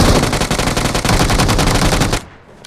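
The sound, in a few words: gunfire between other players in a video game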